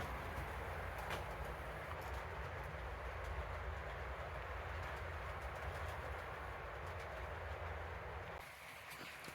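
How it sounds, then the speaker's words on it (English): An eastbound train rolls down the main line through Proviso Yard at about 20 miles an hour, a steady loud rumble and clatter that eases off slightly at the end. "Here's the train coming down the main line through Proviso Yard."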